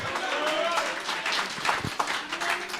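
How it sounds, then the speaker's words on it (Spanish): A church congregation at an annual retreat in Bonaire applauding, scattered hand claps and crowd noise close by, mixed with voices and shouting. "Aplaude al Rey en esta hora"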